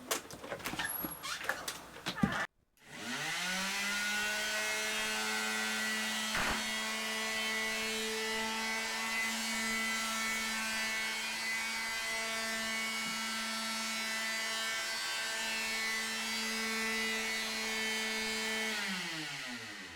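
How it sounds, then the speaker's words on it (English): A steady mechanical whirr runs continuously after a brief burst of clatter, loud and even, like a power sander humming against wooden furniture being sanded. "she's helping her grandmother do some sanding here"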